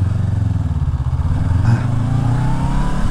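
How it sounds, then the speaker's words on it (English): A 2022 Honda CB500X motorcycle is ridden on the road, its engine a loud, steady drone that climbs slightly in pitch as it accelerates, heard close up with no talking. "I'm just riding this, seeing what the bike's like"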